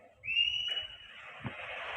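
An audience member gives a single shrill whistle, a bright rising tone that holds for about half a second before fading into room noise, heard alone and faint as though from a distance.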